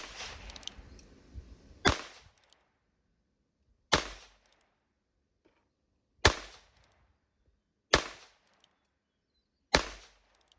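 Five sharp, loud .22LR shots from a Heritage Rough Rider single-action revolver, evenly spaced about two seconds apart, each a crisp crack with a short decaying tail, after brief low background rustle.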